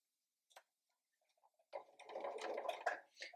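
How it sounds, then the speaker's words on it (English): A domestic sewing machine stitching fabric for a stuffed elephant toy, starting with a few isolated ticks and clicks, then running in a steady, close mechanical whir for about a second and a half, with no talking. "So I'm going to start sewing along here."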